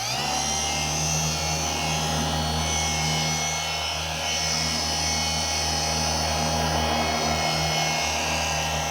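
A machine polisher on a Porsche 718 GT4's paint holds a steady, close, droning whir with a constant low hum, running alone throughout.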